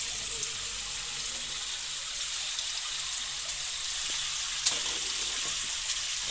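Raw chicken being washed in water for biryani, a steady wash of splashing and sloshing at close range with no one talking.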